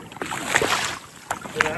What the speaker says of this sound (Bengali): ভালো ঢেউ যাচ্ছে।